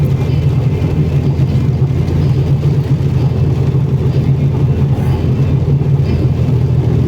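Car engine running at steady high revs, a loud, continuous droning roar held without a break from start to end, close by, with no one speaking.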